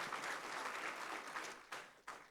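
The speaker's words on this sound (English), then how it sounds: "Can we give another round of applause to Mr." A seminar audience at a pension fund event applauds, quiet and distant steady clapping with a couple of sharper bursts near the end.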